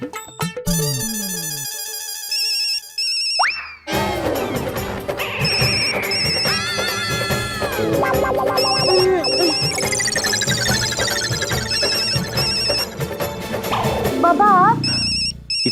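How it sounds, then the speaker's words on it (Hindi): A phone ringtone plays a melodic electronic tune over and over, loud and close, with brief gaps between rounds. "इतनी रात गए कौन फोन कर रहा है?"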